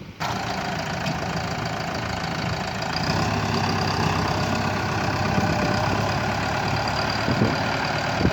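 A tractor engine idles steadily in a vineyard during raking work, a continuous loud rumble with a slight knocking texture and no voices over it.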